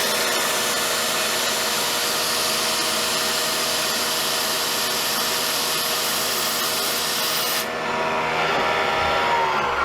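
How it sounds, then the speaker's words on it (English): Steady broadband whir of a CNC machine peck drilling aluminum with mist coolant, with a hissing, rasping texture, continuous throughout; the high hiss cuts off abruptly near the end while the lower hum continues. "Just slowly peck drilling"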